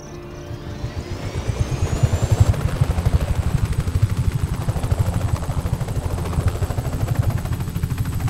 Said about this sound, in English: let's get into this helicopter and see where it takes us